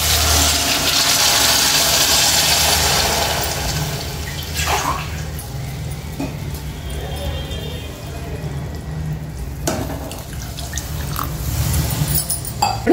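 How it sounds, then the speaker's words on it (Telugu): Water pours into a cooking pot of vegetables for veg pulao: a loud, rushing pour for the first few seconds, then quieter trickles and a few splashes. "ఇట్లా మగ్గిపోయిన తర్వాత ఇప్పుడు వాటర్ వేసేసుకోవాలండి"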